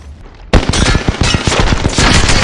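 Rapid bursts of gunfire from Apex Legends erupt abruptly and loudly, a dense string of close shots firing in quick rhythm and continuing without pause.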